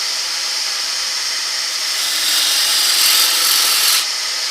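A bowl gouge cuts a wooden bowl on a lathe, throwing long shavings with a steady, bright hiss that swells louder midway through before easing back.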